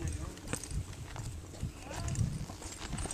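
Horse hooves clopping on the ground nearby, irregular steps over a busy background with faint voices.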